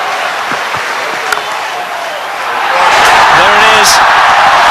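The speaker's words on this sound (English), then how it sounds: "if he does go to 100, this crowd will erupt" A cricket stadium crowd at a one-day international erupts as Herschelle Gibbs reaches his hundred, a steady roar that swells louder into sustained cheering and applause, with a commentator talking over it.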